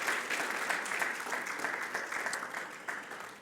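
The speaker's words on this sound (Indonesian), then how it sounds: "Sekali lagi boleh tepuk tangan panjang" Church congregation clapping at length during a Sunday service, a steady wash of many hands that slowly tapers, heard at a moderate distance.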